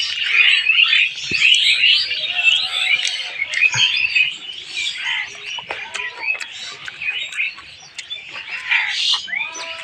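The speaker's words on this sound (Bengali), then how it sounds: "একটু পাখি এত চেঁচাতে পারে।" Many birds in a tree shriek and chirp loudly and continuously, a dense, busy chorus of overlapping shrill calls with no pause, close by and filling the whole stretch.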